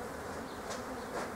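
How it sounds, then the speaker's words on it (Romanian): Honey bees buzz steadily around an open beehive during hive work, a dense close insect drone that stays even throughout with a few brighter swells. "vine albina din partea cealaltă"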